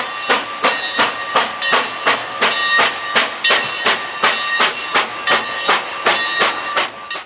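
Frisco 1522, a steam locomotive, barks up the eastern approach to the Merchant's Bridge at Venice, Illinois, pulling its train with loud, evenly spaced exhaust chuffs over a steady hiss and rumble, close by and without talk.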